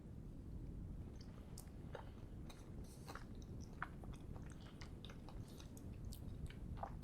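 Close, quiet chewing of a cheesecake dessert with a crunchy biscuit base, irregular crisp crunches and bites, a steady mouth-noise rhythm with no talking.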